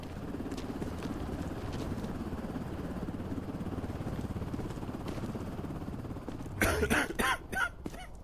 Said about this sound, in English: Let's check that cough out, buddy.